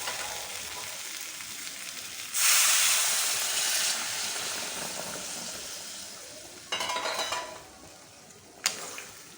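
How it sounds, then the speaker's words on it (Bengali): Hot water poured into a hot pan of jackfruit kofta curry, bursting into a loud hissing sizzle that slowly fades, followed by two shorter sharp hissing surges, close and with no talk. "এবার আমি গরম জল দিয়ে দেবো।"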